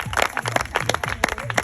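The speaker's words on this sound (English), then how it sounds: "I think we should give them a very big applause for." Audience applauding a choir at a late-December concert gathering, close, irregular claps in quick bursts with uneven loudness, a smallish crowd clapping at moderate volume.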